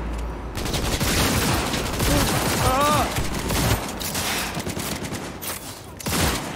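Rapid bursts of gunfire in the video game Cyberpunk 2077, a dense, loud fusillade of shots filling the scene alongside game sounds, with a voice talking over parts of it.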